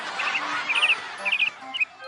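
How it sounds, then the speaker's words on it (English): A lark's call in the ABC Mouse learning game, made of short twittering chirp bursts repeated three or four times over soft background music. "What kind of bird are you? Ah, you're a lark."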